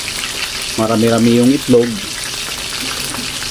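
Coated chicken sizzles steadily in hot oil, a constant crackling hiss beneath a voice speaking briefly over it.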